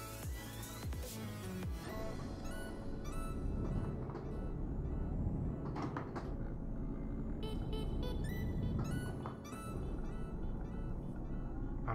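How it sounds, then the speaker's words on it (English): Truck gearbox grinding in Euro Truck Simulator 2 as gears are shifted too quickly, a steady dense engine drone with rattling, harsh grinding layered on top and some tonal chimes throughout, loud and continuous. "You hear that grinding sound? It's because I'm changing gears too quick."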